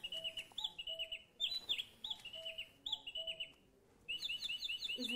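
A handmade electronic toy bird sings, repeating bright chirping phrases with short pauses between bursts and a brief silent gap, clear and fairly close with no voices.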